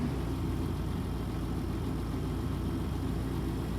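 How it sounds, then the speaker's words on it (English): A truck engine in American Truck Simulator idles low with a steady, dense rumble, unbroken and fairly loud, with no talk over it. "Why are we idling so very low?"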